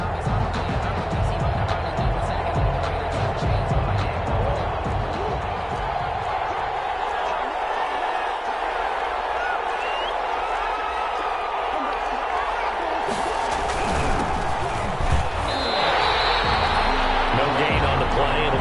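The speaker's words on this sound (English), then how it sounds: "this crowd loves it as their guys hold on the opening drive" Stadium crowd roaring in a PS4 football video game after the defense holds on the opening drive, a steady wall of cheering under commentary with a few louder swells.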